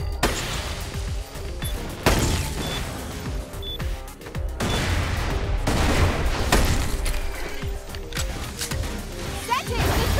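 Repeated bursts of gunfire from Borderlands: The Pre-Sequel, in the Claptastic Voyage add-on, sound as loud, sharp shots in quick clusters over a booming game background, with someone talking over parts of it.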